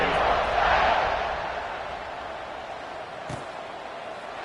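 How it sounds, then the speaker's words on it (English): A stadium crowd in a college football video game, Auburn versus Arizona State, buzzes as a loud, continuous roar that swells early and then settles to a steady murmur, with a single thump partway through. "this crowd is buzzing after that last score"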